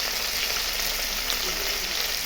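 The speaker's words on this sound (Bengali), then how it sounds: "এখন এই পিসটা ভেজে নিচ্ছি। বেশি কড়া ভাজবো না" Pieces of sole fish fry in hot oil, a steady dense sizzle crackling continuously and close up with no voices.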